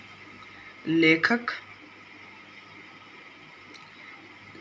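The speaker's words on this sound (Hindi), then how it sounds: "यह घोड़ा थकावट की वजह से धीरे धीरे चल रहा है" A tired horse on a mountain descent on the road to Lhasa gives one loud, short whinny-like call, while a narrator speaks over a quiet background.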